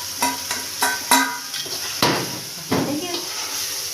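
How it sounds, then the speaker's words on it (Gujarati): Tomatoes fry in a pan while a spoon stirs and scrapes them, giving soft sizzling with repeated clinks and scrapes in an uneven rhythm. The sounds are close and moderately loud. "આ રીતના ટમેટા બહુ નહીં તળવા દેવાના, ઓછા ઓછા તળવા દેવાના એટલે બટકા રહે."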